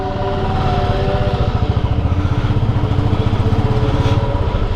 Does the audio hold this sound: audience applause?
no